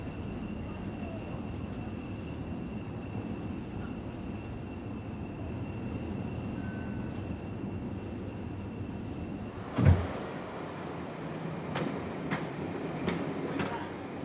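Train at Exeter Central station: a steady low rumble of rolling stock with a faint high whine, then a thump and a few sharp clanks near the end, no voices.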